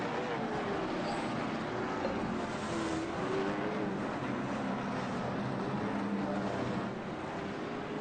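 Race cars circling slowly under caution at the Slinger asphalt oval, a steady drone of several engines held throughout at moderate distance, with no one speaking.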